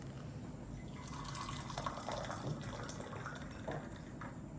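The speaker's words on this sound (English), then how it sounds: "So you actually pour the hot water in first." Hot water poured into a glass before adding shochu, a faint, thin trickling and splashing with small drips, heard alone in a quiet room.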